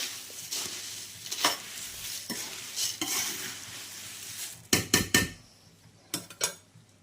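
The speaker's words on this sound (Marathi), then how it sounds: "याला छान असं एकजीव करून घ्यायचं आहे आपल्याला तुम्ही चमच्याच्या साह्याने" Thin poha chivda tossed and mixed with a spoon, a steady soft rustle of dry flakes broken by several sharp scraping clinks of the spoon against the pan, with no talking.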